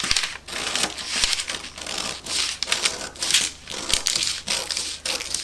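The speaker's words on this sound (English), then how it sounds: "I'm going to cut this all the way to the shoulder" Scissors cutting through dress fabric for a sewing project make repeated crisp snipping crunches in an uneven rhythm, close and clear, with no talking.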